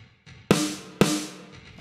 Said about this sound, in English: The snare top is being sent to this reverb bus, and that sounds like this.